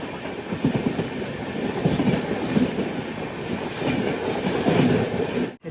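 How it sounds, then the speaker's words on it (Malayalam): A passenger train rolls into Palakkad Junction, a steady rumbling roar with soft rhythmic clatter of wheels on rail joints, heard continuously at moderate level. "ട്രെയിൻ ഇപ്പോൾ പാലക്കാട് ജംഗ്ഷനിലേക്ക് എത്തുകയാണ്"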